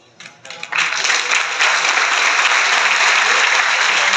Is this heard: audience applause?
yes